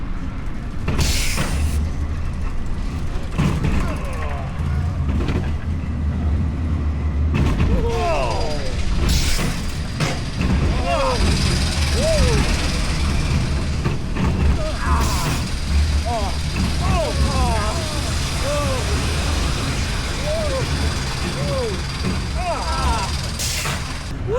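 A classic wild mouse roller coaster at Six Flags America runs with steady rattling and clattering of cars along the track, punctuated by sharp knocks on the turns, while riders' voices and shouts rise over the din throughout.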